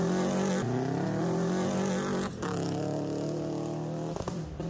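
Rally car at a rally event, a loud sustained engine roar with shifting revs as it passes, no voices.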